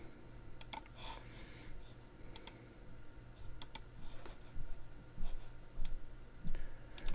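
Mouse clicks while operating Reason 12 music software on a computer, a scattering of sharp, close, quiet clicks at irregular intervals over a low background hum.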